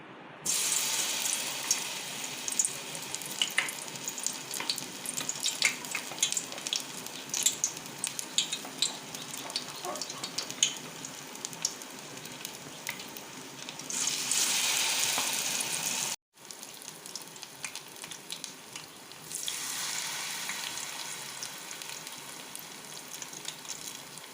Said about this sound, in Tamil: டிப் பண்ண ஆப்பிளை ஆயில் ஆட் பண்ணிக்கலாம்